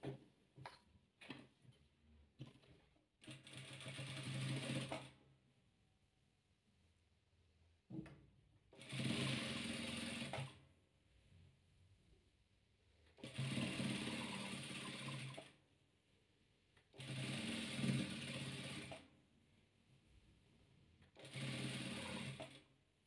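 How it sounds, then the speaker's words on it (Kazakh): Patchwork rows are stitched on a sewing machine: five separate bursts of steady, close mechanical whirring, each lasting a few seconds, with quiet pauses and small clicks of fabric handling in between. "Енді осыны тігіп аламыз."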